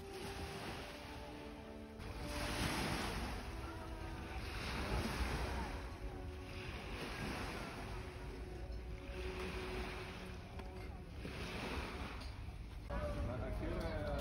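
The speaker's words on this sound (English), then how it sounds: "hearing the sound of the waves was so calming" Sea waves breaking on the shore at Palermo, a continuous washing surf with rolling swells, wind buffeting the microphone and faint voices in the background.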